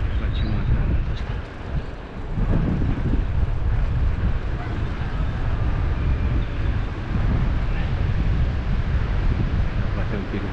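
Strong wind buffets the microphone in a loud, continuous low roar with gusty swells.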